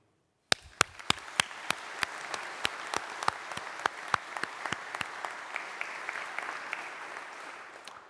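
Audience applause for graduates at a Greenwich graduation ceremony: sudden onset of dense, sustained clapping in a large hall, with sharp individual claps standing out at a regular pace near the microphone throughout, fading slightly at the end.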